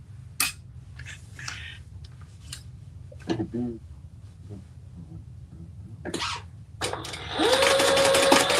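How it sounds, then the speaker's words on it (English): A home sewing machine stitches down the side of a fabric project, its steady whirring run starting near the end after scattered handling clicks and rustles, with a person talking nearby. "I'm just sewing down the other side."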